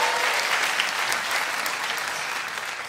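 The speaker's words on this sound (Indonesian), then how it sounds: "Tepuk tangan untuk Kongguan." Audience applauds a stand-up comedian at a comedy show, a dense wash of clapping that holds steady and fades slightly over three seconds.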